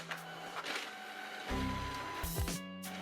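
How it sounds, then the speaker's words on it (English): Printer running a print job, a soft whir that builds into a louder mechanical feed and grinding roll halfway through, close and steady with no talk. "Printing again."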